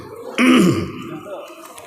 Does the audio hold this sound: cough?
yes